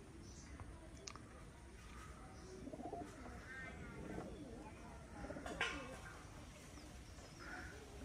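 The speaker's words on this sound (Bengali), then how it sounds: "উপরে আর 2টা কবুতর আছে, এই 2টা হচ্ছে আমার" Domestic pigeons coo softly in low, rolling bursts from some distance, set against a steady outdoor background hiss while the birds are out flying.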